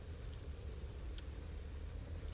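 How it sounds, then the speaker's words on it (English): A tank engine in the Sprocket combat game drones steadily while being over-revved and damaged, a constant low rumble with no break and no voices over it. "Oh, I'm even damaging my engine here."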